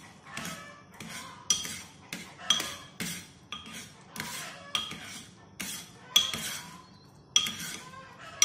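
Stirring rice porridge with fish and pumpkin in a metal pot at home, a utensil scraping and clinking against the pot in a steady rhythm of short, close strokes, with no talking.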